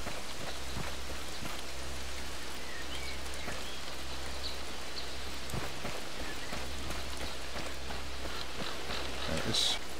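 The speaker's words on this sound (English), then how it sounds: "A bit laggy with all this rain." Steady rain falling in the video game ArmA 3 on the Chernarus map, a constant dense hiss of drops on surfaces filling the whole stretch with faint scattered knocks.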